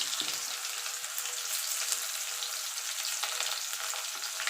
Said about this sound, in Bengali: পেঁয়াজটা একটুখানি ভাজা ভাজা করে নেবো